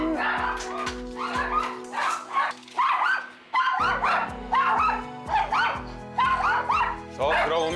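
Several excited dogs bark, yip and whimper rapidly and loudly at a doorbell indoors, layered over one another in a dense, continuous chorus.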